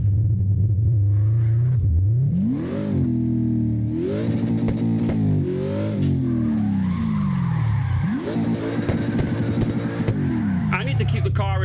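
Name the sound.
car engine revving in CarX Drift Racing video game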